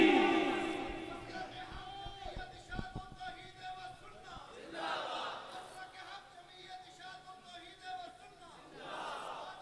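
A crowd at a religious gathering (jalsa) shouts the takbir chant Allahu Akbar in repeated loud bursts, with a single leading voice between the crowd's responses.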